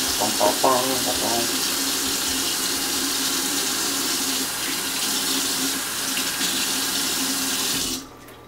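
Tap water runs steadily from a faucet onto a large raw fillet in a sink, a continuous close gush that stops abruptly near the end.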